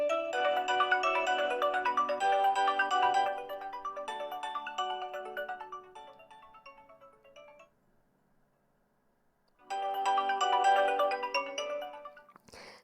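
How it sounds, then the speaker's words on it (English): An Honor Magic 7 Lite smartphone ringtone plays a bright, repeating melody at boosted volume, loud and close, fading after several seconds, pausing briefly, then starting again. "let's just test it with the help of ringtone volume"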